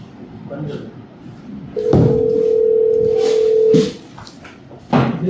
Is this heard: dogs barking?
no